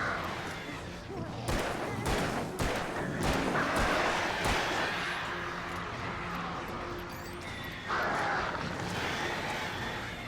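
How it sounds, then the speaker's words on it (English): Crows cawing repeatedly in the dark outdoor setting of the video game Alan Wake, mixed with thuds, gunfire-like bangs and game ambience at steady loud level, with someone talking over parts. "Damn crows!"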